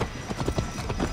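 Horse galloping in Assassin's Creed Valhalla: rapid, rhythmic hoofbeats pound close and loud in a steady run, with no voices over them.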